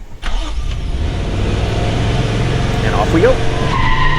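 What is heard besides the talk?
2022 Toyota Tundra accelerating hard with wheel spin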